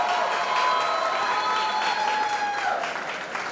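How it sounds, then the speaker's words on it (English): Enthusiastic audience applause for the principal at a college fest, dense clapping with light cheering, steady and slowly fading toward the end. "a big round of applause for your principal for giving Mahima this shot"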